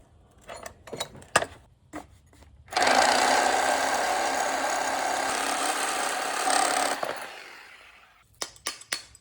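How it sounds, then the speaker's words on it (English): A Sawzall reciprocating saw cuts off a shock bolt during a Cadillac XT6 shock replacement, a loud, steady buzzing rasp lasting about four seconds, with scattered metallic clanks and taps before and after it. "I have opened up a gap in here that I can fit my Sawzall in, so I will cut it off."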